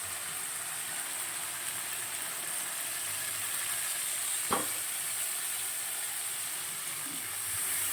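A paste of ground cumin, ginger, turmeric and salt sizzles steadily in hot oil while being sautéed, with a constant bright frying hiss and one soft scrape of a spatula partway through.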